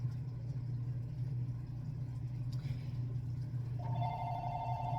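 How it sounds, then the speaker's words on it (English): A telephone rings in the background near the end, a faint electronic trill entering over a steady low hum. "Sorry for the phone in the background."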